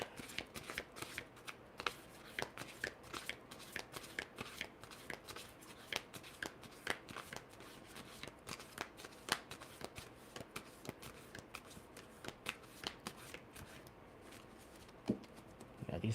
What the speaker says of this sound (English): Very difficult to shuffle.